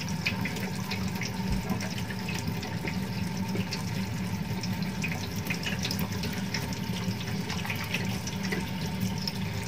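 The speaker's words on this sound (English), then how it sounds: "To wash dirt residing in the hands, a good amount of soap is required to create a lather." A tap runs steadily into a sink while hands are rubbed and lathered with liquid soap, a constant close splashing wash of water with faint scrubbing.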